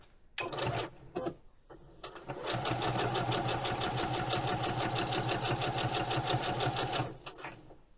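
A sewing machine stitches fabric pieces for a rice bag: a couple of short bursts, then a fast, even run of stitches lasting several seconds, close and loud before it stops.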